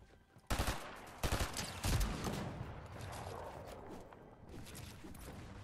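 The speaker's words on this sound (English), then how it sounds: "Oh, they're shooting me!" Gunfire in the Fortnite video game aimed at the player; sharp, loud bursts of rapid shots, then sustained firing and rumble that fade to quieter action, close.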